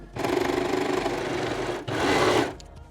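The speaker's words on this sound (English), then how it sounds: "I just wanna serge everything together because it's a really heavy material" A serger stitches through heavy, stretchy fabric in two close bursts, a fast rhythmic mechanical chatter that pauses briefly before running again, up close with no talk.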